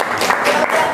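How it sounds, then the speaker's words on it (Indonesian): High school students clap together in a classroom during a physics demonstration on resonance, a short dense burst of many hands clapping at once. "Tepuk tangan sih toh."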